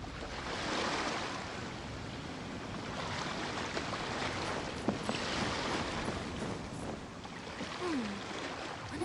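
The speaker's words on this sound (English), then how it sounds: "The sound of the ocean waves." Ocean waves in the game Genshin Impact wash in a steady, full roar of surf that fills the whole clip at constant strength, with no talking over it.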